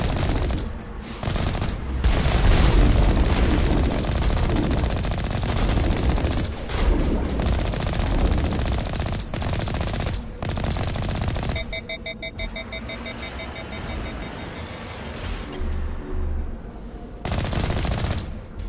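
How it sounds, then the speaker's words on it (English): Sustained machine gun fire in the Mass Effect video game, dense and loud, rattling on for most of the stretch, with a beeping alarm-like tone layered in near the end. "I drove a machine gun up to him to execute him."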